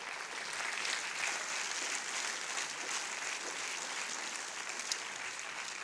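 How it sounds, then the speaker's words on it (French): Steady applause from an audience at a festival opening ceremony, moderately distant, holding at an even level throughout. "Pour une fois, on peut l'applaudir quand il est là."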